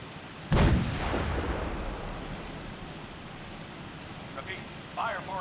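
Artillery batteries fire a barrage in the video game Fallout 4: one heavy boom lands near the start and rumbles away, then a few fainter later reports follow, while a voice talks over it.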